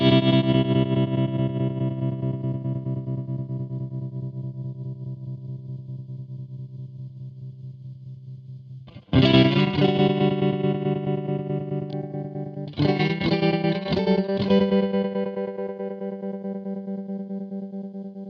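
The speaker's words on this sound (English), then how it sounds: "They call this an asynchronous dual tremolo" Electric guitar chords ring out through an Old Blood Noise Endeavors Whitecap asynchronous dual tremolo pedal, long sustained notes pulsing with a wavering, choppy modulation, restruck twice, clear and close with no talking.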